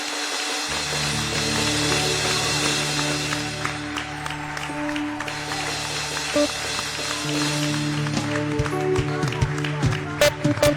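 A church congregation applauds and cheers during an evangelical worship service in Tangier, Morocco, the clapping blended with sustained music and voices throughout.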